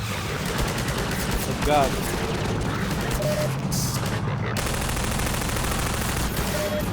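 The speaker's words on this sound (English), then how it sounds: "Who's shooting at me?" Enemy gunfire in Half-Life 2 crackles in rapid bursts amid a constant loud rumbling din, with a man briefly exclaiming over it.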